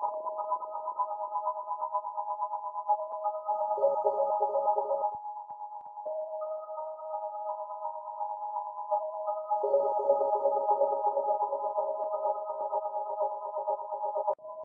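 A synth melody for a hard trap-style beat runs through reverb and delay, its sustained tones smeared with echo tails and a gritty edge, looping a phrase for about fifteen seconds alone, steady and moderately loud.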